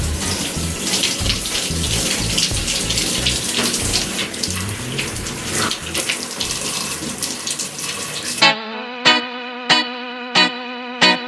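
Tap water runs in a steady, close, loud stream as it wets hair locks, then cuts off abruptly. Spaced, rhythmic musical tones follow.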